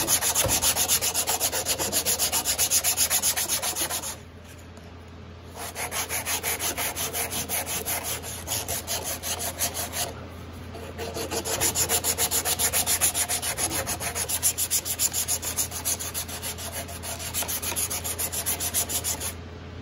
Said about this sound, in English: when you use the sandpaper here